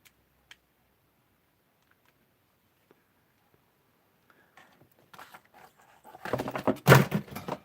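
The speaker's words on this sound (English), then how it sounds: "Oh, knocking everything down." Items on a papercraft stamping desk get knocked over in a sudden loud clattering burst of thumps near the end, after a long near-silent stretch with a few faint taps.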